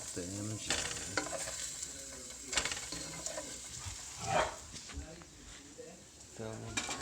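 A burger cooking on a grill or pan with a continuous sizzle and frequent scraping of a spatula, while someone talks over it and a dog barks faintly in the background.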